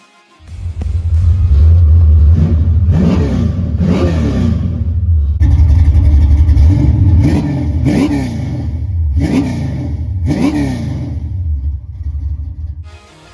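A 1979 Chevrolet Camaro Z/28 drives along the road, its V8 rumbling loud and near with repeated throttle blips that rise and fall in pitch, a deep steady drone under each rev.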